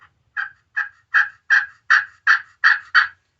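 A glass friction turkey call played with a carbon striker, sounding a run of eight sharp, high yelps in quick succession, loud and close with silence between each note.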